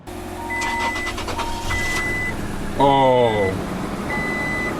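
A Toyota Tacoma, a rebuilt wreck on jumper cables from a BMW F30, cranks in a rapid stuttering burst and then catches. A beeping chime sounds around it, and a voice briefly exclaims over the engine noise.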